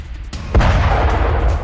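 A huge explosion after an attack on Konarak port erupts as a single sudden loud boom, then rolls on into a sustained deep rumble.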